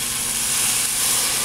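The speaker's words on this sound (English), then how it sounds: "You'll hear that sizzle stop." A loud, steady hiss as bouillon sizzles in a hot pan with pot roast and onions, continuous and close throughout.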